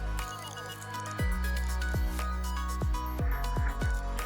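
A wet sponge is lifted from a car-wash bucket, with a squishy slosh and then a handful of distinct falling drips and splashes in an uneven rhythm, close and clear.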